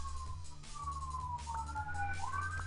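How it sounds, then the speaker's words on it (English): Wailing sirens in the distance, several overlapping tones rising and falling over a low rumbling background. "that's all I hear are sirens coming from your place right now"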